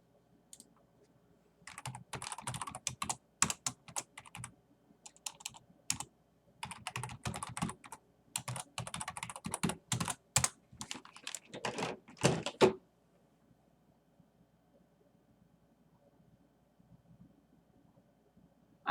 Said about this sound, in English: where's my keyboard for this computer?